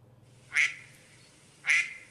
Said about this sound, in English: so it's a duck